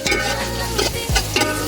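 Garlic sizzles steadily in a frying pan while a utensil stirs it, with scraping strokes recurring every half second or so over the continuous close sizzle.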